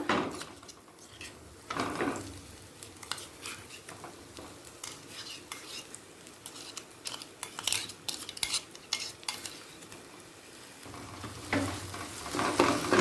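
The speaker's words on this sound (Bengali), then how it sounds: "পিঁয়াজ বাটাটা তেলের সাথে মিশিয়ে নেব দিয়ে দেব আদা রসুন বাটা" Onion paste and ginger-garlic paste frying in oil with whole cumin for a vetki fish kalia, a steady close sizzle broken by scraping spoon strokes and clinks against the pan.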